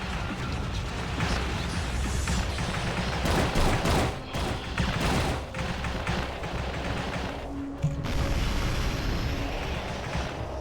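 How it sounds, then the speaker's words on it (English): Torpedoes firing in the underwater video game AquaNox: a loud, sustained barrage of booming launches and explosions rolls on densely, with short breaks and no clear speech. "I'm wasting freaking torpedoes."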